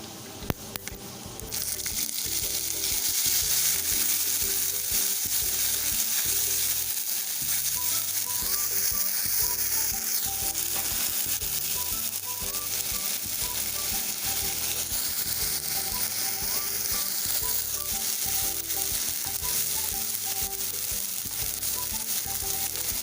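Onion paste fries in a pan for Kashmiri dum aloo, a loud continuous close sizzle that holds steady for the whole stretch, with faint rhythmic mechanical clicking underneath.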